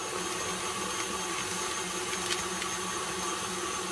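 Stand mixer whipping Swiss meringue buttercream at speed 6, a steady, even mechanical whir with a constant motor hum, alone and moderately quiet throughout.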